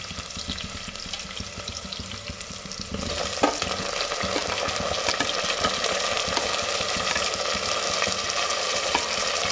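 Onions and tomatoes frying in a pan, a dense steady sizzle that jumps louder partway through as more goes in, with occasional stirring clinks, close and continuous with no voices.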